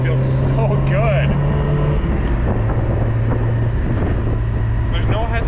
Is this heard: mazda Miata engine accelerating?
yes